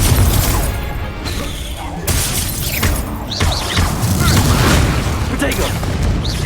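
Booming Confringo blast-spell explosions in the Hogwarts Legacy video game on PS5, loud crashing impacts layered over busy combat effects and voices.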